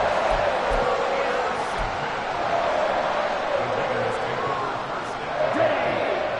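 Stadium crowd in a Madden football video game, a steady broad roar of cheering that holds loud throughout, with commentary speech running over it.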